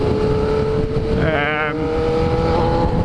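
A Yamaha XJ6 motorcycle on throttle makes a steady engine roar with a rising whine that sweeps upward briefly in the middle, heard loud and close under constant wind noise.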